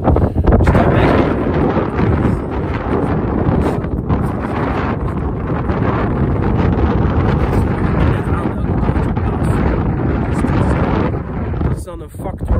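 Strong wind blowing sand on tidal mudflats buffets the microphone in a continuous loud roar, gusting steadily from start to finish.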